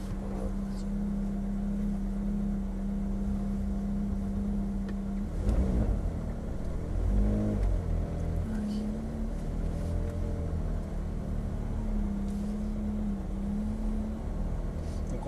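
A car pulls away slowly during a driving lesson, its engine humming steadily at low revs and then rising briefly in a few gentle surges, while an instructor and learner talk quietly over it.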